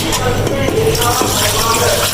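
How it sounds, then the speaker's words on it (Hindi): Water is poured into a cooking pot while making kadhi, a steady splashing gush that runs continuously and sounds close and fairly loud. "अब इसमें हम ऐसे ऐसा पानी मिलाएंगे।"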